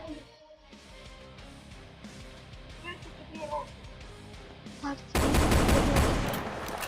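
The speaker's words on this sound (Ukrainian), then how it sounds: "Це мій улюблений звук, коли стріляють." Rapid bursts of gunfire in the video game Roblox Brookhaven, sparse at first and then a loud sustained volley near the end, with voices talking over parts of it.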